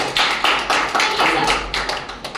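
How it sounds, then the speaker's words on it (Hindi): A crowd at a hotel product presentation claps hard and fast, close and loud, in quick, fairly even bursts with no voices over it. "इनके लिए जोरदार तालियां हो जाए"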